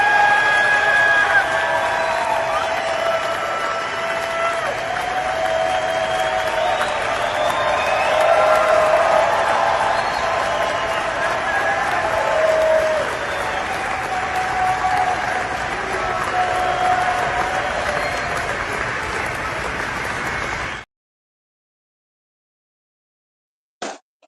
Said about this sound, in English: that's them cheering that guy Ross Ulbricht